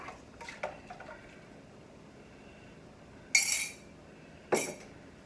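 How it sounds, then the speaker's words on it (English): A spoon stirring almond milk soup in a pot gives a few light clinks early, then two sharper metallic scrapes against the pot, each brief and close over a quiet background. "I'm going to go ahead and give this another stir and mix it in."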